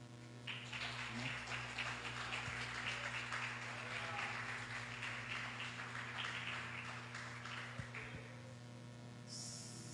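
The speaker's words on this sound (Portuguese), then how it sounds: "Que as palmas louvem o Senhor Jesus Cristo" Church congregation at an evening victory service breaks into sustained applause, a steady wash of clapping lasting about eight seconds over a constant electrical hum, then fading.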